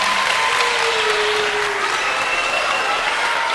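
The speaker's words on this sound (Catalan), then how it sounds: "Ja el tenim així! Aplaudiment!" An audience at a children's show applauds loudly and continuously, a dense even wash of clapping with a faint tone running beneath it.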